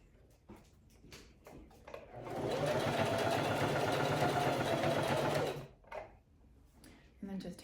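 A sewing machine stitches fabric for a Tahitian headdress in a steady, loud mechanical whir lasting a few seconds, with quieter handling sounds and brief talk before and after.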